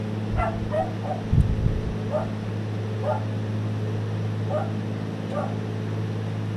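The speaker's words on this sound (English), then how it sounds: "Hang on, my dog's barking." A pet dog barks and yips in short repeated bursts from another room, somewhat distant, over a steady engine hum from a flight simulator, with one loud thump partway through.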